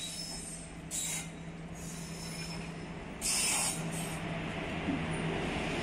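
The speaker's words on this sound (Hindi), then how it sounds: "तो यहाँ देखिए ट्रेन हमारी आ रही है।" A train pulls into a station, with steady rolling rumble and bursts of high metallic wheel squeal near and loud, no talking.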